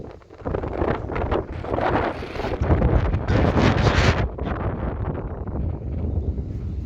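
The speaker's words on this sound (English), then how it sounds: "the wind speed up here pretty much be like 50 to like 40 miles an hour up here" Strong wind roars at the top of a fire tower, a loud, continuous buffeting rush that pounds the microphone with rising and falling gusts throughout.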